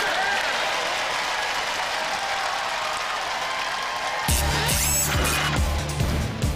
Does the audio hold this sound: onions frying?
no